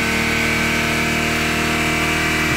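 A 2004 Lexus IS 300 engine held at 4500 RPM, a loud, steady, continuous mechanical whine and hum with no change in pitch and no talking.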